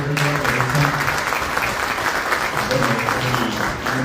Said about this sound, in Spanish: Un aplauso fuerte para Teresa.